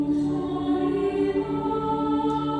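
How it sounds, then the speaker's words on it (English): Many virtual choir recordings layered together as one chorus, producing a sustained, dense blend of held sung tones that is steady and full for a few seconds. "when you play them all together, it sounds like this. It sounds like a chorus."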